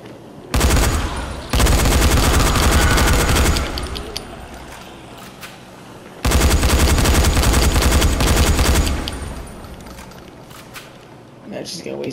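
Loud bursts of automatic gunfire in the video game Dying Light come in two long sustained volleys, each several seconds of rapid close shots, with quieter gaps between them where a voice talks.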